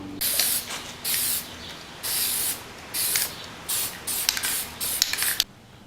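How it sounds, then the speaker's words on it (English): Bursts of spray paint hissing onto a downpipe for its final coat, about seven separate sprays in short regular pulses, close and steady, then stopping. "So we are done putting the final coat of paint on this downpipe."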